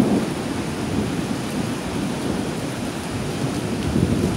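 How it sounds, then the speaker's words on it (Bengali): A violent thunderstorm pours heavy rain with rolling thunder, a loud, dense, continuous roar of downpour over a deep rumbling low end that never lets up, with no voices. "প্রচণ্ড ঝড় বৃষ্টি।"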